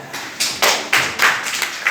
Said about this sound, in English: Very good clap for her.